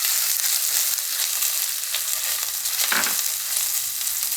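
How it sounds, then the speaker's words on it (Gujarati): Carrots added to a hot pan, frying with a steady bright hiss and a brief stir or scrape partway through, close and continuous with no talking. "હવે આપણે એમાં ગાજર નાખી દઈએ"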